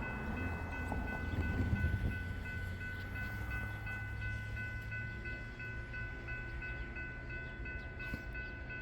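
A BNSF-powered freight train rolls past a grade crossing near Ceylon, Ohio, a steady, continuous rumble of locomotive and wagons with a sustained tonal hum, close and loud throughout without any talking.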